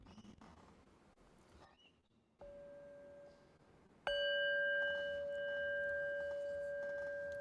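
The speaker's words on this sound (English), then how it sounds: "I've actually brought a special bell." A soft tone rings out, then a louder bell strike sustains a clear, long-ringing hum that slowly fades in a quiet room.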